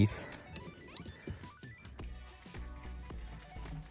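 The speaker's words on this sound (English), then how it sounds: "I've cracked open that drain cock just ever so slightly" Hot water runs out of a slightly opened drain cock on a domestic heating system, a close, gurgling, splashing trickle that sputters unevenly over four seconds.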